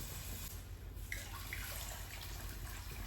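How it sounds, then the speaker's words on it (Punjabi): Water pours steadily into a pot in one unbroken rush, a continuous splashing hiss with no voices. "ਲੋ ਜੀ 1 ਲੀਟਰ ਪਾਣੀ ਪਾ ਲਿਆ ਆਪਾਂ 10 ਪੈਕੇਟ ਵਾਸਤੇ"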